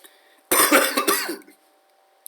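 A person with a sore throat coughs in a loud burst of several harsh coughs, close and alone, followed by quiet.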